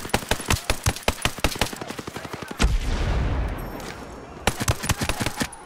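Rapid automatic gunfire in the shooter game Ghost Recon Breakpoint, loud close bursts of shots followed by a rumbling blast, then more rapid shots resuming.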